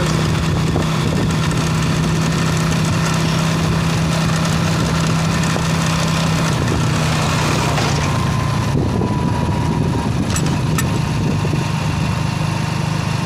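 A motorbike engine drones loudly and steadily while the bike rides along Chandbali road, with a constant low hum and road noise and no voices over it.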